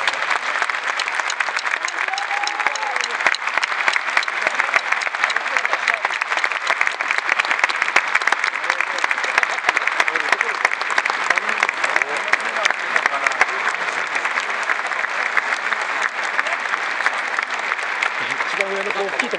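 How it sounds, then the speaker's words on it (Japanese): Large stadium crowd applauds at a football player's retirement ceremony after a Tokyo versus Kawasaki match, a dense, continuous roar of clapping that stays loud and even throughout, with voices mixed in. "大きな拍手をお願いいたします。"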